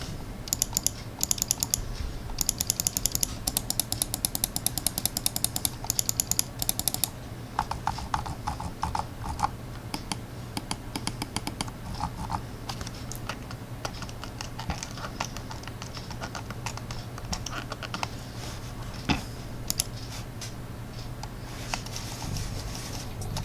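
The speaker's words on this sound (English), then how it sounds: "let's take a listen to what each of the buttons sound like." Buttons on a Corsair Scimitar gaming mouse clicked one after another, giving crisp, close, quiet ticks in rapid irregular bursts, thinning out to sparser clicks later on.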